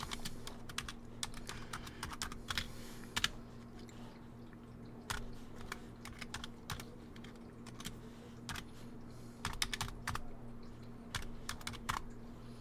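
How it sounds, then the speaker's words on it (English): Rapid, uneven clicking of keys on a small computer keyboard, quiet and close, continuing without pause and with no voices. "This keyboard is so small."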